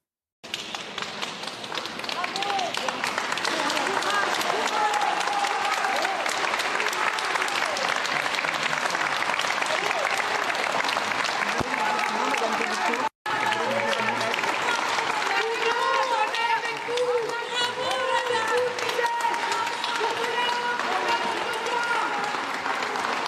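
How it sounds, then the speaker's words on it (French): Crowd outside a court hearing applauds a woman as she leaves, long sustained clapping mixed with cheers and overlapping voices, briefly cut near the middle. "On va juste écouter la façon dont les gens l'applaudissent désormais lorsqu'elle sort de l'audience"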